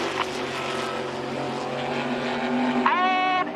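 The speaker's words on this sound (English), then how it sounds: "To the right now, to the south, you'll see the shape of an aircraft, specifically the Spitfire." A Spitfire flies an air display at the Goodwood Festival of Speed. Its piston engine gives a continuous, fairly loud droning roar that swells slightly, with a brief rising tonal sweep near the end.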